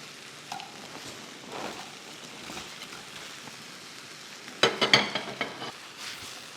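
Fried paneer and a little sugar go into a hot pan with a steady soft sizzle, broken by a louder burst of crackling and stirring partway through.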